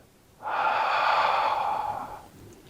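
One long, steady breath drawn during a slow tai chi exercise, close and soft, with a gentle rise and fade over about two seconds and no voice over it.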